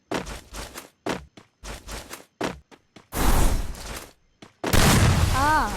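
Shotgun blasts in a first-person shooter video game, a few sharp loud bursts separated by quieter stretches of short clicks and footstep-like taps.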